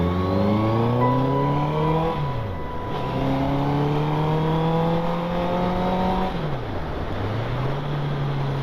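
A Honda CBR 650F motorcycle ridden on a road, heard from the rider's position: the engine climbs steadily through the gears with two clear dips as it shifts, with a constant wind rush underneath.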